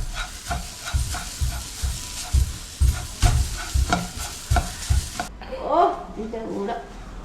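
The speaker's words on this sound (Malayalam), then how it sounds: "ഈ അവില് ഒന്ന് മൂത്ത് വരണ സമയത്ത് നമ്മൾ ഈ തേങ്ങയും കൂടി ഇതിൻ്റെ കൂടെ ഇട്ട് ഒന്ന്" Flattened rice and grated coconut roasting in a pan with jaggery syrup nearby, giving steady stirring scrapes and a soft sizzle for most of the clip, while people talk over it.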